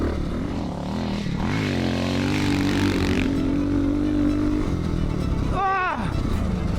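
A rare dirt bike engine drones steadily at close range during laps, its pitch rising and falling as the throttle opens and closes, with a sharp rev swing near the end.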